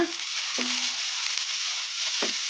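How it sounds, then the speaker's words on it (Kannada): Potato and chopped fenugreek leaves frying in a pan give a steady broadband sizzle, with a couple of brief scraping strokes from stirring cutting through the hiss. No one speaks. "ಈ ಥರ ಕಲಿಸ್ಕೊಂತ ಫ್ರೈ ಮಾಡ್ಕೊಂಬಿಡೋಣ"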